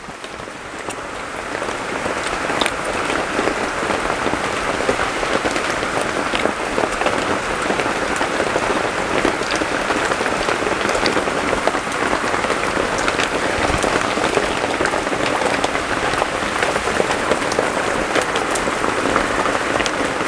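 Steady, dense rain patters continuously on a surface, an even hiss of countless drops with no break.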